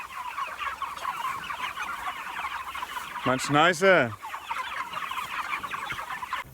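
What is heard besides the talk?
chickens clucking on pasture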